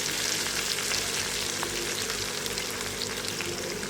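Fenugreek and spinach leaves frying in hot oil, a loud steady sizzle with crackling pops throughout, no talking.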